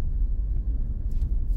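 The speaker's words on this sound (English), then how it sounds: "Get a downshift now into second gear for now, going down the steep hill." A car engine rumbles low and steady while downshifting into second gear on a steep, snowy mountain road descent, the drone continuous and close with slight wavering.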